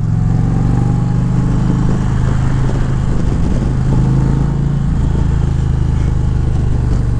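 An Indian Challenger motorcycle fitted with a full Fab 28 long-pipe exhaust and a cam, a loud, close, steady low engine drone holding a constant note with a brief dip near the end.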